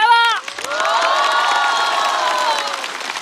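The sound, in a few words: studio audience applause for comedian Zhang Jun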